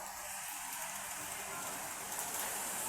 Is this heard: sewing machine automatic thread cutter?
no